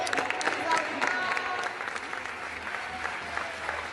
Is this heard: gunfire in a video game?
no